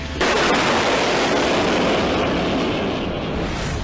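An S-400 missile defense system blast erupts with a sudden loud boom, then a broad roaring rumble that sustains and slowly fades over several seconds.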